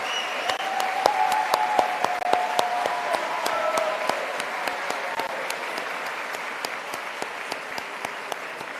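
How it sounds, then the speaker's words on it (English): Graduation ceremony audience giving a sustained round of applause, dense clapping throughout with sharp individual claps standing out, steady and fairly close, a few voices briefly audible early on. "Round of applause for Mr. Adams."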